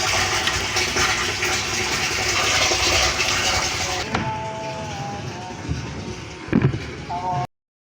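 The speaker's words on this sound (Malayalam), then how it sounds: "വെള്ളം നിറഞ്ഞുകൊണ്ടിരിക്കുന്നു." Water gushes steadily into a rooftop storage tank, a loud continuous rushing fill that drops off partway through, leaving a quieter trickle with a few brief knocks and clunks near the end.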